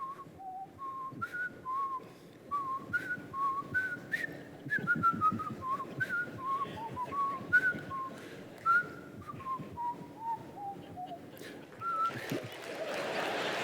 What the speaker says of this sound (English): I can whistle the final Jeopardy song